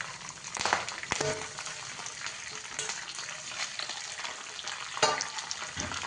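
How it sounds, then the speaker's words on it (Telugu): Green chilies, red chilies and curry leaves crackle and sizzle in hot oil in a pan, with a few sharp stirring scrapes and pops standing out over the steady fry, close and moderately loud with no talking. "అన్నీ వేసి ఒకసారి కలుపుకోండి"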